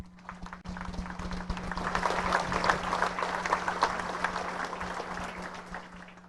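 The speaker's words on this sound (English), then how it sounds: "another round of applause for Earl Cooper" An audience at the National Sprint Car Hall of Fame induction ceremony applauds inductee Earl Cooper. Steady crowd clapping begins abruptly after a brief quiet moment and holds loud and dense throughout, with a low steady hum beneath it.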